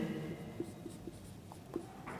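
Marker or chalk writing on a board during a mechanics-of-solids lecture, with a few short, faint scratchy strokes over a quiet room.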